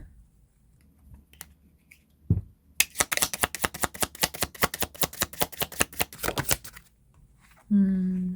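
A deck of tarot cards is riffled close by in a quick run of crisp flutters, preceded by a few soft handling taps and followed by a low voice speaking.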